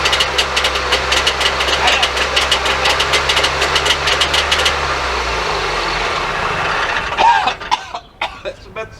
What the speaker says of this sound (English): Hey, but it's running on 2 cylinders.